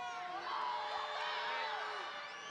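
A college basketball crowd at a Purdue Fort Wayne game screams and yells in a continuous, dense wash of whoops and shouts, fairly loud and sustained throughout with no pauses.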